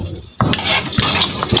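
Food is stirred in a pan with a utensil, starting after a brief quiet moment and continuing as soft scrapes and clinks of metal over light sizzling.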